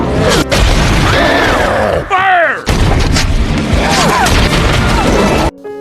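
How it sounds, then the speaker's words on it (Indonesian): Heavy bursts of gunfire and booming blasts with crashing impacts, dense and loud, briefly broken by a short pause before resuming. "suasana bahagia itu berubah setelah militer menembaki Kong."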